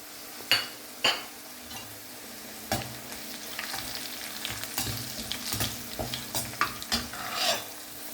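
Dried red chillies and bird's eye chillies sizzling in hot oil, a close crackling fry punctuated by sharp clinks and scrapes of a metal spoon against the pan, no talking.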